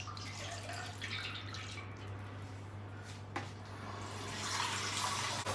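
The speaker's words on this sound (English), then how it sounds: "you have to put some water on this one. So you have to put water in here." Water pours steadily into a roasting pan beneath a pork belly roll, a continuous splashing hiss that grows slightly fuller toward the end, heard alone without talk.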